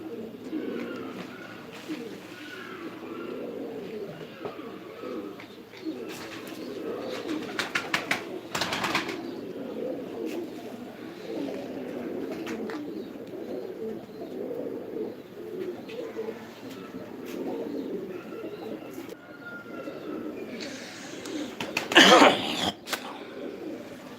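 Pigeons at a live pigeon sale in Diyarbakır give a low, continuous cooing chorus close by, with scattered rustles and a brief sharper call near the end.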